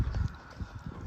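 Hooves of an expensive horse clip-clop in a quick, uneven rhythm close by, with a low rumble underneath and no speech.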